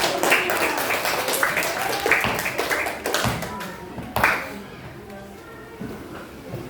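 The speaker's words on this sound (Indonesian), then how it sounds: "Kasih tepuk tangan dong." A classroom of students claps during an elementary geometry lesson, with uneven, scattered hand claps and taps that build and fade over several seconds, close by and moderately loud, with faint voices mixed in.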